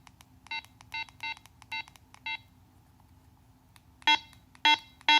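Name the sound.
Motorola CLS1410 radio unprogrammed button beeping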